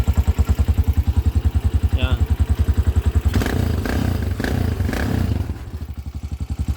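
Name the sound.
Yamaha TMX125 motorcycle engine running with holed exhaust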